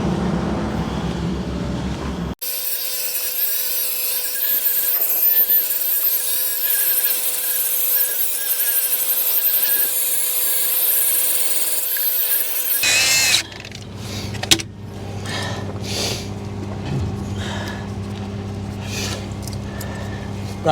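A power drill whines steadily at close range for about ten seconds while drilling out 12mm bolts on site, then stops, leaving rumbling traffic-like background noise.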